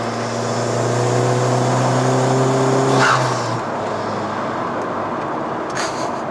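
A Honda Civic Type R FK2 engine revs while driving, a loud steady drone with rising tones that peaks near three seconds, then drops to a softer cruising rumble.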